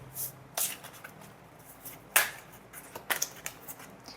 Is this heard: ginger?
no